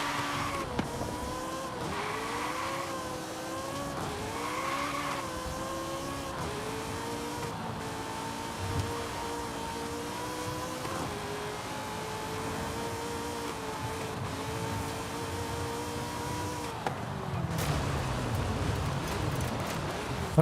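Race car engine in a video game, steady tonal drone with rising and falling pitch sweeps as the car is floored, plus some tire noise, loud and continuous with no talk.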